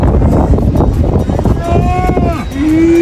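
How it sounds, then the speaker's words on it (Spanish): A cow moos in a long, rising, drawn-out call at a livestock fair in Cañar, loud and close over a busy, noisy crowd with people talking nearby. "Mira esta vaquita."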